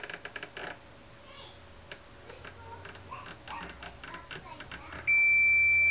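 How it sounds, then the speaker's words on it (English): A continuity tester sounding a steady electronic beep on a shorted IC of a plasma TV Y buffer board, starting abruptly near the end after scattered clicks and taps of probe handling. "So that beeping sound means that one of these ICs is probably shorted."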